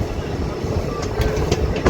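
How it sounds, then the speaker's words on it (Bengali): Maatara Express passenger train running just after leaving Bandel Junction in foggy weather, a steady close rumble of the carriage with faint rhythmic wheel clatter throughout. "আমাদের মাতারা এক্সপ্রেস এখন ব্যান্ডেল জংশন ছেড়ে আমরা চলে যাচ্ছি"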